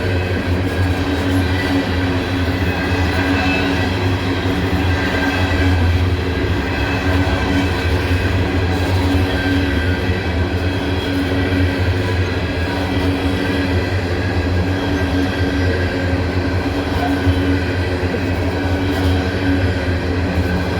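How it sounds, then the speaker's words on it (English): A heavy freight train labours uphill with a continuous deep rumble and grinding of wagons, steady and loud throughout, with no voices. "he's going uphill with this whole heavy train"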